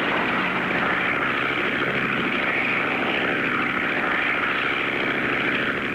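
A propeller airplane drones steadily as it comes in to land, loud and close, a continuous engine roar with a buzzing propeller throb and no voices.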